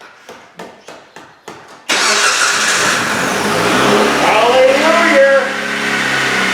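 A Jeep Compass fitted with a replacement starter cranks in five quick rhythmic bursts, then fires and settles into a loud, close running engine with a brief rev; a person exclaims over it.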